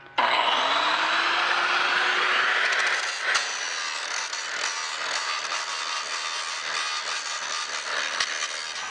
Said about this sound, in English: So what I'm doing right now is I'm cutting these oval-shaped slots in here.